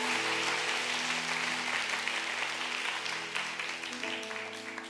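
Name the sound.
audience applause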